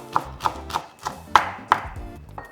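A knife slices green onion on a cutting board at a steady rhythm, about seven crisp, close chops over a couple of seconds, with no talking.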